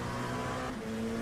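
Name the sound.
rapid downshifts of a GT race car in a racing video game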